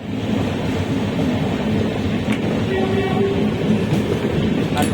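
A new Vande Bharat train leaving Haridwar station, a loud, steady rumble of rolling wheels and motors close by, with faint clicks and a brief whine over the station din.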